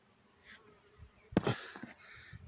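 Honey bees buzz around flowers in an open meadow, a soft hum early on and then a brief, louder close pass of buzzing wings that fades away.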